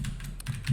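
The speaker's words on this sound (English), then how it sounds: "type this exactly as I'm typing it" Quick, light keystrokes tap on a computer keyboard while entering JSON for a Node and MongoDB API project, a soft irregular clatter heard close and alone.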